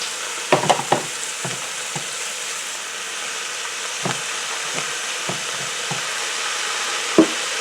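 Chopped onions and small turnips frying gently in olive oil in a pot, a steady close sizzle with scattered sharper pops and the occasional clack of a stirring utensil, and no talk.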